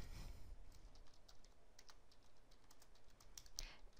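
Fingers type on a computer keyboard, a quiet run of irregular light key clicks with a few sharper taps near the end, heard up close with no talk.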